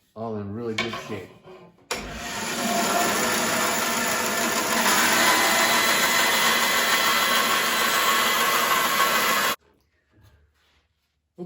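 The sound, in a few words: power tool cutting out wooden bow limbs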